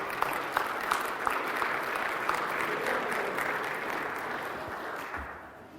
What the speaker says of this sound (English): let's give a round of applause for our lovely volunteer